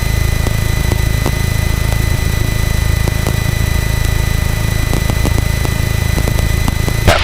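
A light aircraft, registration G-LACB, drones loudly and steadily on final approach at about 1500 RPM and 70 knots. The close, unbroken engine hum fills the whole stretch without a voice, and a short knock sounds at the very end.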